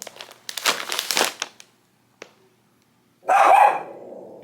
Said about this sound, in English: I'm gonna stop and get him to stop barking